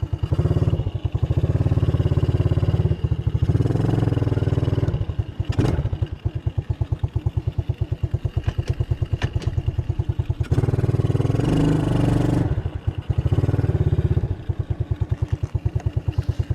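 A Spark SP 150-5 quad bike with a carbureted engine idles in neutral, giving a loud, close, steady, even putter of rapid pulses with no one talking.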